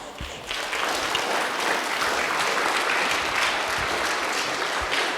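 Sustained audience applause at a school assembly honoring workers of the week and sports awards, a steady dense wash of many hands clapping that continues for several seconds at even volume.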